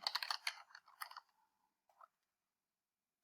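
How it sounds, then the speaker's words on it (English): Typing on a computer keyboard while building a website, heard as a quick run of close, crisp key clicks that slows to a few scattered taps and then stops. "I have a hard time typing."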